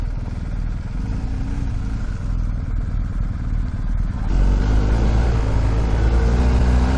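A BMW GS R 1250 motorcycle rides along a Spanish dirt road, its engine a loud, continuous drone with gravelly clatter that swells and thickens partway through.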